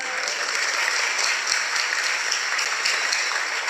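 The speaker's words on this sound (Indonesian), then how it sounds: "Tepuk tangan." A congregation at a preaching event with two well-known Indonesian Islamic preachers bursts into steady, dense applause that fills the room evenly from start to finish, with no speech over it.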